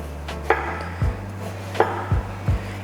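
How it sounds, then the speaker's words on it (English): A knife chops through a peeled watermelon into thick slices on a cutting board, giving five firm, spaced thuds with crisp cutting sounds, close and clear without speech. "go back and cut it into some thick slices"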